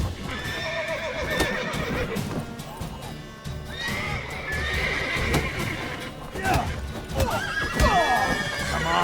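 Horses in The Witcher 3 whinny and neigh repeatedly, with hooves clip-clopping and rustling movement around them, loud and close, in a busy game scene that also carries voices.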